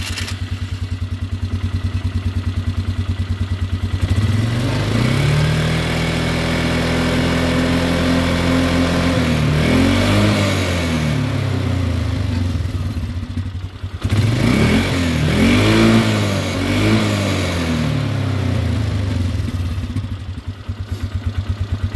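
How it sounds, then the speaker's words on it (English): Polaris Sportsman ATV engine running close and loud, a steady idle rising through two distinct revs that climb and fall back, with no voices. "I'm going to start it up and rev it"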